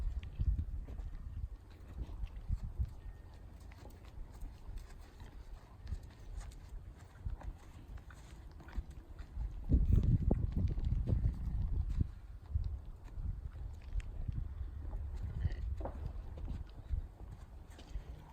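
A young, green-broke horse walks around an arena, its hooves thudding in a steady clip-clop on soft footing, growing heavier and closer midway, with low background noise throughout.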